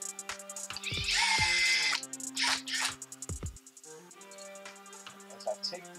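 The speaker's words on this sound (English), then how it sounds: "I'm using a drill" A power drill removing screws from a Yaesu FTM-400 radio whirs in a short high-pitched burst, followed by briefer bursts, with clanks of screws and handling noises around it.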